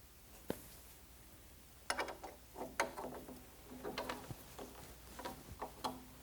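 A shouldered bolt is tightened on a Rialto Reformer, giving quiet clicks and metallic ratchet-like ticks in short irregular bursts that stop after a few turns, close by and faint.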